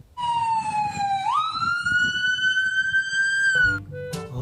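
A toy ambulance gives off a loud electronic siren tone that dips, jumps up and holds steady for a few seconds, then stops, followed by brief clicks and handling noise.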